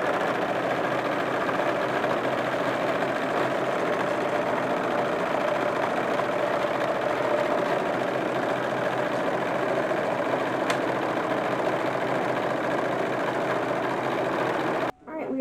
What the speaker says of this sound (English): we're going to sew up both backs